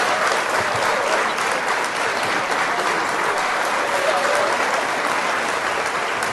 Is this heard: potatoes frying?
no